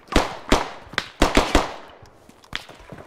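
Rifle gunfire in a military video game: six or seven sharp, loud single shots at irregular intervals, each ringing out with a short decay, no talking.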